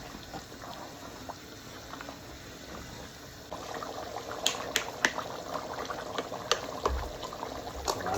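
Ground coconut paste poured into a simmering mutton salna, a steady bubbling, liquid hiss that thickens after a few seconds, with scattered small pops and splutters close by.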